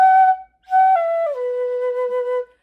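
A hon choshi 3 shinobue flute playing a short phrase from a Naruto theme: a clear, breathy sustained note, a brief pause, then a descending stepwise line ending on a long held tone, close and loud.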